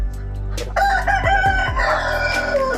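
KUB chickens in a home-scale poultry farm, with a loud close rooster crow over steady clucking and low flock chatter, a continuous layered mix of birds throughout.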